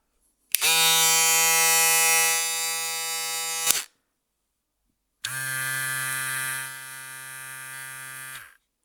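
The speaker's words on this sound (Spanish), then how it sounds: "Es la afeitadora más silenciosa que yo he usado." A Madeshow M7 electric shaver runs in two separate bursts of about three seconds each, a steady, close, fairly quiet motor hum with a bright buzzing edge and clean on and off stops.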